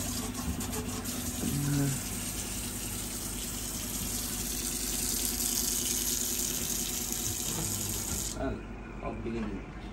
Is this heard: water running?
yes